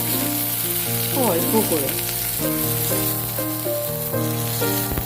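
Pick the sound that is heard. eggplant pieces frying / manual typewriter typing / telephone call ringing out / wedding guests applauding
eggplant pieces frying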